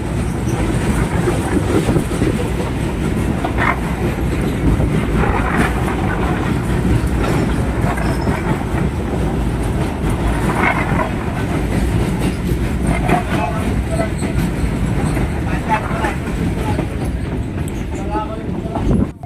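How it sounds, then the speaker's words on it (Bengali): A local train rumbles loudly and steadily up close as it crosses the Damodar River bridge, its wheels clattering in a continuous rhythmic roll throughout. "আমাদের ট্রেন এখন অবস্থান করছে বাংলার দুঃখের নদী দামোদর নদীর উপর থেকে"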